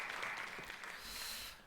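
Church congregation clapping during a Sunday morning worship service, a steady wash of applause throughout, fairly faint and distant, fading at the end.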